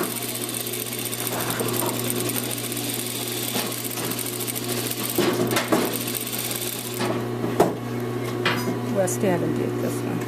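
A domestic sewing machine stitches a shirt hem, its fast, even motor whir running steadily with a few mechanical clicks and thumps, close and fairly loud, with a voice speaking over part of it.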